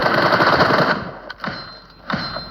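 Rapid automatic gunfire in a shooter video game, a dense burst of shots for about a second followed by a few single louder shots, close and loud.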